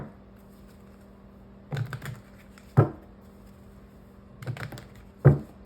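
Short bursts of quick, papery riffling and tapping come in pairs, separated by quiet pauses, as tarot cards are shuffled close by.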